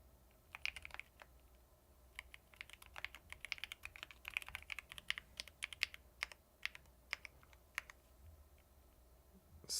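Keys clack on a computer keyboard in quick irregular bursts, close and fairly quiet over a faint steady hum, with short pauses between runs of keystrokes and no talk.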